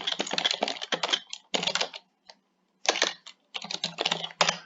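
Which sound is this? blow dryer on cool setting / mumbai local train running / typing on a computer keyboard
typing on a computer keyboard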